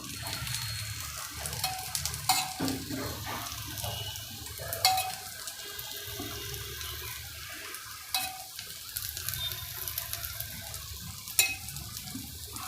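Corn appam batter cooks in ghee in an appam pan with a soft, steady sizzle. A few light clinks of a spoon or pan sound over the frying. No one speaks.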